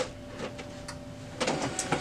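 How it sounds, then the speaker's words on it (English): An HP LaserJet M234sdwe laser printer initializes with a steady mechanical hum and several clicking, whirring bursts near the end, close and moderately quiet. "Your printer will then initialize."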